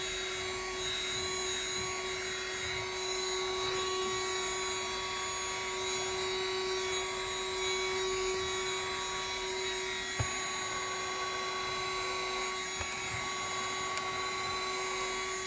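A vacuum cleaner runs steadily on dusty car carpet, a constant loud whine with a strong tonal hum throughout, with a few faint clicks and no talking.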